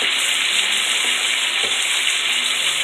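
Onions sautéing in butter give off a constant, dense hiss of frying, steady and close with no distinct stirs or speech, almost like rushing water.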